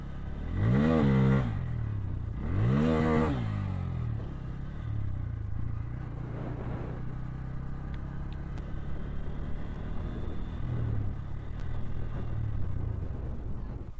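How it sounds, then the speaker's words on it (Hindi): A Bajaj Pulsar motorcycle engine revs twice in sharp rising bursts, then settles into a steady idle rumble with a few smaller throttle blips, close by and with no talk. "ये पल्सर यस इधर के ट्रेंडिंग बाइक है।"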